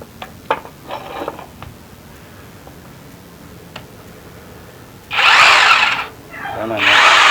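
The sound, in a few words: cheap Hujia cordless drill boring into wood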